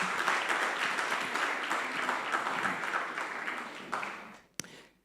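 Audience applause at a community dialogue: a dense, steady round of clapping from a crowd that holds for about four seconds, then tapers off and ends abruptly.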